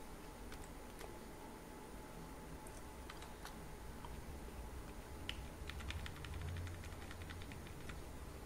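Faint, scattered clicks of typing on a computer keyboard, irregular and quiet over a soft background hiss.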